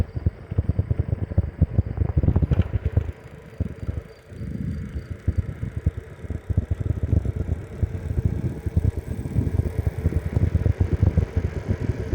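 A bicycle rolling down the Potts Mountain descent in Virginia, with a continuous rushing roar of wind buffeting the microphone and road rumble close and loud throughout, briefly easing once before building again.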